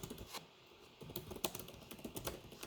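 Quick, irregular clatter of keys being typed on a computer keyboard, close and soft, with short pauses between bursts and no voices.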